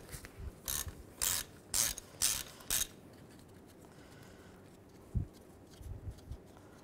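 Ratchet wrench with a 17mm socket loosening the turbo oil feed bolt on a 2007-2013 Mini Cooper S, five or six quick rasping ratchet bursts in a row, then a single knock and some faint handling noises.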